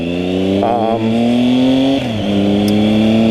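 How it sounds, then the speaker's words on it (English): A 2006 Triumph Speed Triple motorcycle engine idles with a steady, loud harmonic drone, blipping up in pitch briefly, then revving higher and holding near and strong. "So you can probably hear this bike"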